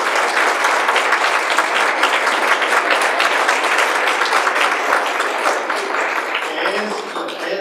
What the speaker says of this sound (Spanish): yo le doy un aplauso